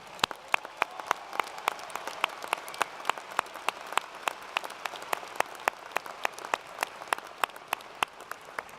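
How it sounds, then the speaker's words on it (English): Sparse, evenly spaced individual claps ring out in a large hall at a university fall commencement ceremony, fairly quiet and distant over a soft room background. "Everyone, a round of applause for all of these graduates."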